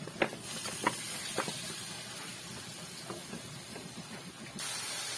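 Eggplant sizzles in a hot pan, giving a steady hiss with a few faint clicks and pops scattered through it.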